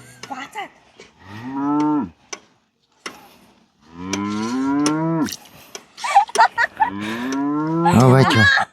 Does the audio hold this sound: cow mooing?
yes